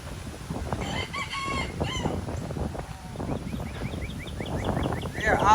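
Backyard chickens and chicks cluck, with a rooster crowing and shrill chick peeps, close by over a busy outdoor background.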